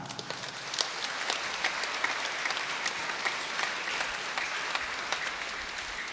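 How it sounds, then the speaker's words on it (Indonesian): Steady applause from a church congregation at a Christmas Eve vigil Mass, dense clapping sustained throughout at moderate distance, with a few louder individual claps standing out. "Kita beri tepuk tangan untuk mereka."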